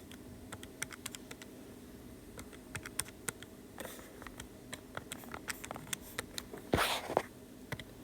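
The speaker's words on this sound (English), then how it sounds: "if you type that into your calculator" Calculator buttons are pressed while numbers are entered, giving a quiet run of small plastic clicks at an uneven typing rhythm, with a brief scuffing rustle near the end.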